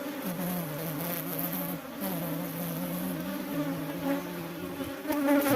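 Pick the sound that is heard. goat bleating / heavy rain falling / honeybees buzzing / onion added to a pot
honeybees buzzing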